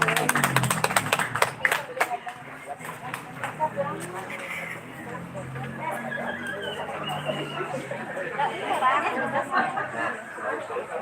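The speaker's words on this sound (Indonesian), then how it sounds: "tepuk tangan dari Tambun" Scattered clapping from an audience at a live karaoke contest, strongest at the start, then giving way to crowd chatter and talk with a few more claps later.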